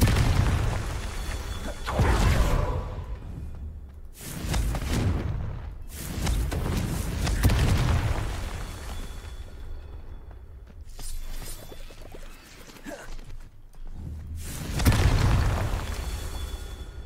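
Confringo explosion spell cast in a Harry Potter video game: several heavy, booming blasts go off one after another at irregular intervals, each with a rumbling tail, loud and close, with no voices.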